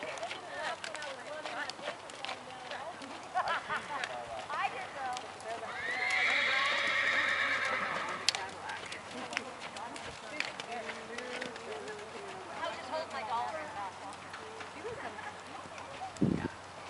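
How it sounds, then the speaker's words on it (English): Several horses jog on command in an arena show event, hooves clip-clopping in a steady rhythm with a loud whinny partway through, while an announcer and other voices talk over the hoofbeats. "Jog your horses, please."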